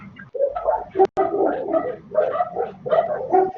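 Dog barking repeatedly in a home during an online class, a series of close, rhythmic bark bursts with short pauses between them.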